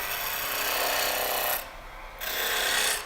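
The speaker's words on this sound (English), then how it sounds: "now I'm just actually doing a left to right cut, more of a scraping cut" A wood-turning tool scrapes across a spinning wooden ornament on a lathe in a steady left-to-right cut, producing a continuous gritty rasp that breaks off briefly and then resumes.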